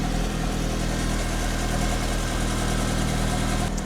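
A Renault Clio K11 car engine with a faulty alternator idles steadily with a rough, droning rumble and slight rattle, running continuously without any voices.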